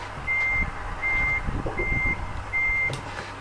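Truck in Euro Truck Simulator 2 backing up, its reversing alarm giving four evenly spaced steady beeps over a low engine rumble, with no talk.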